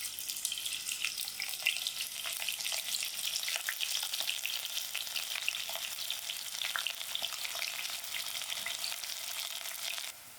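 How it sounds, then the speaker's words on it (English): Onions frying in half a cup of oil in a pot on medium heat, a dense, even crackling sizzle that runs steadily throughout, close and fairly loud with no talking. "First I'll fry out my onions."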